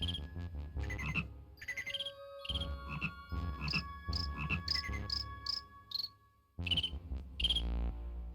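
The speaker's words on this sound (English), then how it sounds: "I like the bloopy frog music." Bloopy frog music from the King's Quest IV video game, a bouncy sequence of bright synthetic chirps and croaking tones in steady rhythm over low bass notes, loud and clear with a short pause near the end.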